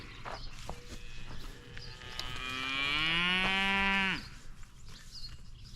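Farm cattle give one long, close moo that rises and holds for about two seconds, with soft shuffling and livestock movement around it.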